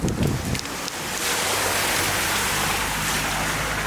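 Water splashing on a flooded street in Albania after intense heavy rain, a loud rushing, hissing wash that follows a short burst of spray and continues without letting up.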